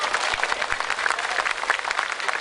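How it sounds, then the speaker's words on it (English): Steady outdoor crowd applause at a March for Myanmar rally in Sydney, Australia, honouring performer James Neil; dense, continuous clapping at moderate distance with no speech. "let's give a round of applause for Mr."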